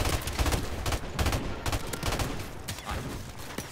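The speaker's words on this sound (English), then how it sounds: "Stop shooting!" Rapid gunfire rattles through a multiplayer Domination match on the Bog map in Call of Duty: Modern Warfare Remastered, with dense overlapping bursts and sharp shots that are loud and close and continue steadily for several seconds.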